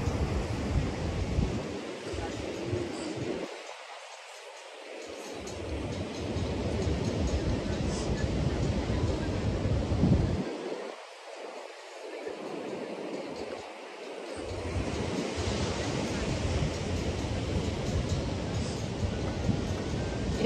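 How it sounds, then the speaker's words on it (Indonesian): Ocean surf rolling onto Legian Beach in Bali: a steady, broad wash of breaking waves and rushing foam that swells and briefly eases, close and fairly loud, with wind noise and no clear speech. "Ombaknya naik"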